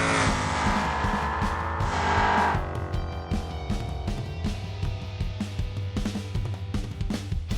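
A Bastion drag car in BeamNG, a 6.5-liter twin-turbo V8 with nitrous making over 2100 horsepower, roars steadily and loud with a high whining rev early on, then settles into a rough, pulsing engine drone.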